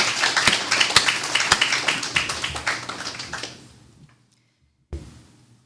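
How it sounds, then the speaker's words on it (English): Scattered clapping from a small audience at a court system launch event, distinct individual claps for a few seconds that taper off into silence, followed by one brief final burst. "That deserves a round of applause."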